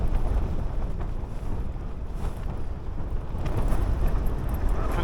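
Strong wind roars steadily at a hilltop camp on High Snockrigg, buffeting the microphone with low, gusty rumble for the whole stretch and no voices.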